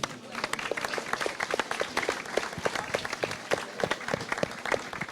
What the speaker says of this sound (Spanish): un aplauso para Ricardo Hernández Bravo